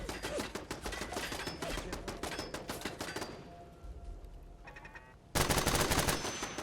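A gun turret in Fallout 4 fires rapid, loud bursts of automatic gunfire, pauses briefly with a few scattered clicks, then opens up again in a dense burst.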